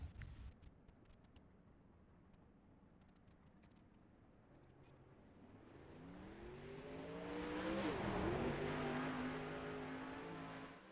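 A sprint car engine from a racing video game, starting faint and distant, then rising in pitch and loudness as it revs closer, peaking and holding near the end; no talk.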